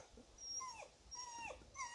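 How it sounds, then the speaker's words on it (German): Several neighbourhood dogs sound off in the distance with faint, high yelping whines in two or three short bursts, no voices present. "hören wir gerade die Hunde des Nachbarns"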